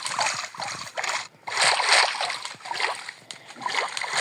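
Water splashing as a character swims in a video game, bursts of watery splashing and sloshing that rise and fall with short gaps between strokes.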